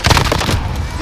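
Gunfire in Call of Duty Warzone on the Fortune's Keep map, a burst of sharp loud reports with a heavy low boom at the start, then dense continuous battle noise.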